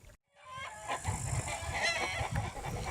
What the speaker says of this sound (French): L'une des spécialités de cette ferme auberge est l'élevage de la poule noire d'Alsace.